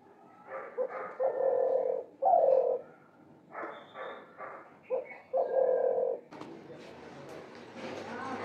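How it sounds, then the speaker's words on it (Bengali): A dove cooing at its nest in a window gap, soft hollow coos in several short phrases near the window, with some faint voices and household noise toward the end. "ঘুঘু পাখির বাসা, এই জানলাটার ফাঁকে এসেই বাসা বানাবে"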